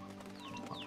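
Rock chickens in the game Slime Rancher, a brief burst of clucking under a steady game background, fairly close but low in level, with no talk.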